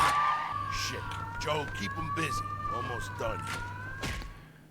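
A police siren wails steadily in the background of the video game Mafia 2, rising and falling, while game sound effects and a voice play over it.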